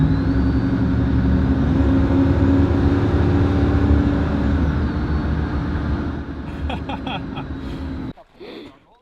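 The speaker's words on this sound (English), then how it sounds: "it sounds like my truck is a turbo" A pickup truck engine, with a radio fault making it sound turbocharged, runs loud and close with a steady droning hum and whine before cutting off abruptly near the end, leaving brief quiet clicks.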